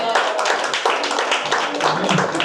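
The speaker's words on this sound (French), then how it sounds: "Est-ce que nous avons applaudi le Seigneur" A congregation applauds during a church service, dense, lively clapping with rhythmic bursts, close and loud, while voices sound faintly beneath.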